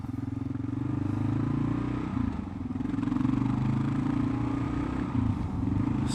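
A Kawasaki KLR 650 single-cylinder motorcycle fitted with an aftermarket header runs under way, a steady low thumping engine drone that swells and eases slightly with throttle, heard close against wind rush.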